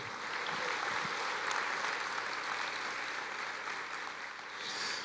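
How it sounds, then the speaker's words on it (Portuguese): A church congregation applauds in a steady, dense wash of clapping that holds for about five seconds without a break. No voices stand out over it. "Você pode dar uma salva de palmas ao Senhor"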